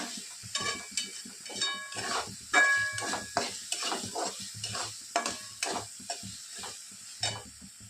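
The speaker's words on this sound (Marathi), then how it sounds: "आता आपण मसाला छान परतून घेणार आहोत" Masala spices fry in oil in a pan with repeated stirring, producing rhythmic scraping strokes and clinks of a spatula over a low sizzle, close and without speech.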